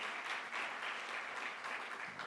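Steady, fairly quiet applause from a conference group on electrification, an even wash of many hands clapping throughout the short stretch with no speech over it.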